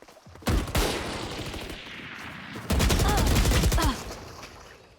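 Rapid gunfire in the tactical shooter Valorant, with two loud, close bursts of fast repeated shots separated by a brief lull, each ringing out with sharp cracks.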